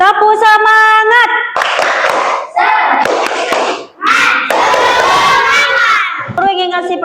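A classroom of children performs the 'tepuk semangat' rhythmic clap during an ice-breaking activity in an Indonesian school lesson, with bursts of clapping mixed with children's shouted chanting and a teacher's voice, loud and close.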